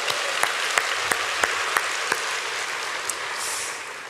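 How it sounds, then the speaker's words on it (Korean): Congregation applause during a Friday all-night worship service at a church, a steady broadband patter of many hands with a few sharper individual claps standing out, fairly even in level before tapering toward the end. "하나님께 영광의 박수 올립니다."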